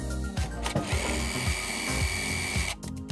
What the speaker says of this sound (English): You just kind of pre-drill till it smokes.